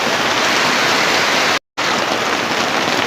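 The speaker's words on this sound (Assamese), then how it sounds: "বহুত জোৰত বৰষুণ দি আছে" Heavy rain pours steadily at Deepor Beel wetland, a loud, dense, unbroken hiss of falling water with a momentary cut partway through and no voices.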